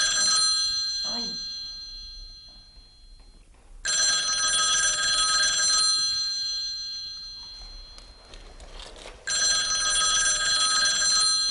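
A telephone bell rings loudly in repeated long bursts separated by pauses, with people talking indoors between and under the rings.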